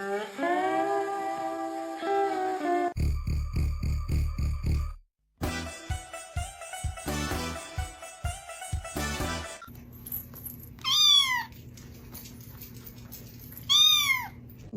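A cat meows in several separate bursts: a long drawn-out cry at the start and two short rising mews near the end, with noisy thumps and clatter in between.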